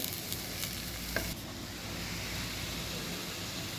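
Cabbage stir-fry with crushed cumin and green chili being stirred in a pan, a steady, close hiss of sizzling with a faint scrape or two from the spoon, no talk.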